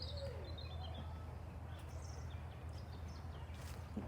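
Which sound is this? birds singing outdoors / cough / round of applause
birds singing outdoors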